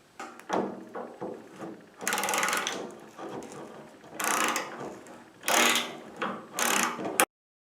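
A socket set ratchet works small screws out of a plastic lawnmower hood, making several close bursts of quick clicking with short pauses between them.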